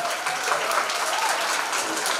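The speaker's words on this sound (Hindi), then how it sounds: "अनुज पाठक के लिए एक बार जोरदार तालियां।" Enthusiastic audience applause for the anchor at a talent hunt show in Bhopal, a loud, continuous roar of many people clapping with no pauses.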